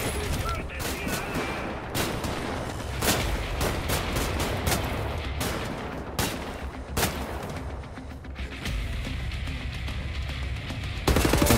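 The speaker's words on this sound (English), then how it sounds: "Just stop shooting at me." Repeated gunshots in the shooter Wolfenstein: The New Order during a prison breakout, sharp loud cracks in irregular bursts over a constant rumble of combat, with some talk in between.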